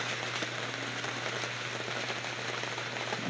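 Steady, heavy rain pours down suddenly at 4 a.m. without pause, a dense wash of drops drumming on a surface close by. No voices.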